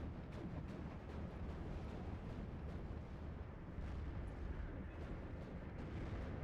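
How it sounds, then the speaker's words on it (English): Artillery barrages rumble in a WWII strategy game battle, a continuous low, distant booming wash of shellfire with occasional sharper bursts, steady and dense rather than distinct single shots. "And I've got the artillery going on."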